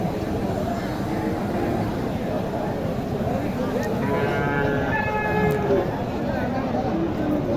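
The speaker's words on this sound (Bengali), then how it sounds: "এখানে দেখেন ক্রস কিছু গরু আছে" Crossbred cattle at a livestock market, a drawn-out moo rising mid-clip over a busy crowd murmur, with people talking nearby.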